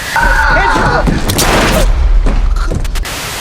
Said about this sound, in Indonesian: Namun naasnya dia terkena tembakan refleks Andre yang akhirnya membuat dia mati seketika.